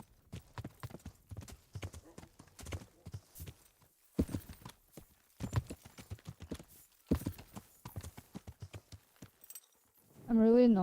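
A horse gallops in the video game Nightreign, with crisp rapid clip-clop hoofbeats in quick bursts and a short whinny near the end.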